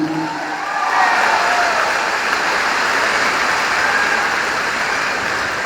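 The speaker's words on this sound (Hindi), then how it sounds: "एक जोरदार तालियां होनी चाहिए हमारे महागुरु मिस्टर महिपाल सर के लिए" A large crowd in a New Delhi stadium applauds loudly and continuously for a mentor at a spiritual gathering, a dense, sustained roar of clapping that holds steady throughout.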